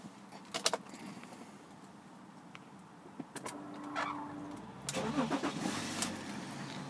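A blue BMW X3 with a 3.0-litre diesel engine starts up after a jingle of keys, turning over and catching into a steady low idle that carries on to the end, heard close with no talk.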